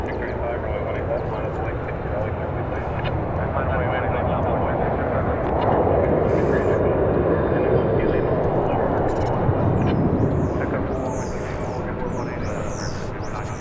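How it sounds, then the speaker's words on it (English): An Airbus A321 airliner arriving at DFW Airport from Tucson, a continuous jet roar swelling slightly midway, with talk over it and brief honking bird calls near the end. "That's Flight 2193 arriving from Tucson, Arizona, an Airbus A321"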